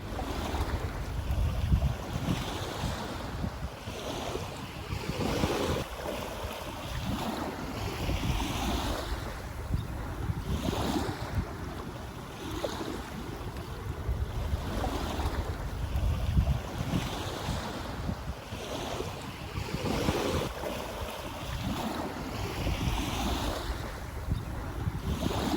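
Waves wash repeatedly onto a beach, a loud continuous surf with rhythmic swells of breaking water every few seconds, mixed with gusting wind buffeting the microphone; no one talks.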